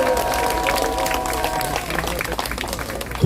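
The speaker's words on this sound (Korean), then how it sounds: "여기서도 박수 한번 해야 됩니다." A crowd applauding at a speech gathering, with steady, dense clapping that carries on throughout and stays fairly loud, with no words over it.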